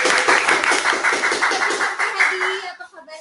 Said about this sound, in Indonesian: Beri tepuk tangan untuk Coach Yopan.